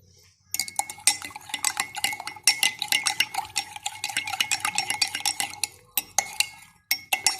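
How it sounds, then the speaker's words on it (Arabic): A spoon stirs salt into water for Moroccan couscous, making a rapid series of close metallic clinks and scrapes against the bowl, with brief pauses between strokes and no talking. "خلطها مزيان حتى كيذوب لي هاد الملحه"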